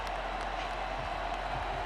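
Steady roar of a stadium crowd at a Miami vs Pittsburgh college football game, reacting after a failed pass on third and long; a dense, continuous wash of voices throughout with no single sharp peak.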